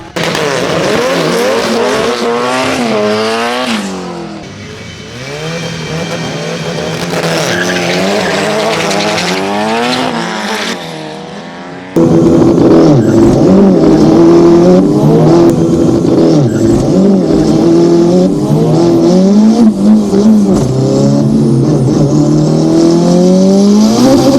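700HP turbocharged Honda Civic launching at a drag race with its tires spinning, very loud revving and squealing engine roar that rises and falls, then a harder sustained full-throttle blast.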